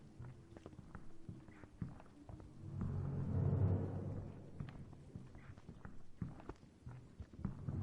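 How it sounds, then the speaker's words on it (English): Heavy footsteps of the stalking pursuer in the horror game Remothered: Tormented Fathers, a steady plodding tread that swells louder and nearer midway, then keeps thudding at a moderate level amid low rumbling ambience. "I can hear his footsteps, so it's making it worse."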